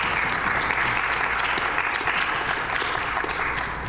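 Sustained applause from a crowd, dense and even, filling the whole stretch without voices.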